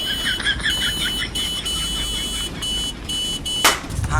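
A vehicle horn honks in repeated short, shrill bursts while a train passes, fairly loud over a steady background hum.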